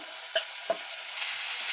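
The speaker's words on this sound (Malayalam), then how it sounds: "ഇനി ഇതിൻ്റെ അകത്തേക്ക് നമുക്ക് കൂൺ ഇട്ടിട്ട് ഒന്ന് ഇളക്കിയിട്ട് അടച്ചു വെക്കാം." Mushrooms fry in a pan with a soft, faint sizzle while two brief spoon-against-pan clinks mark the stirring, then a quieter, steady hiss continues.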